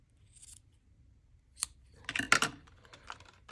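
Scissors snip and trim a length of blue twine during a papercraft embellishing project, giving a few close, crisp cuts with short rustles in an otherwise quiet setting.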